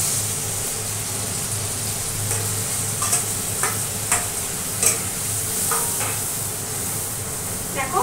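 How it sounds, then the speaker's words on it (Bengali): A ground spice paste sizzles as it is stirred into hot oil with browned onion, ginger and garlic, a steady frying hiss broken by repeated scraping stirs of a spoon against the pan, close up with no talking. "দেখো মশলাটা দিয়ে এবার কষতে থাকি"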